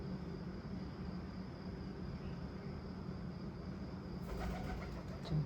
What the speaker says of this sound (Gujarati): હવે કબૂતર ઉઠ્યું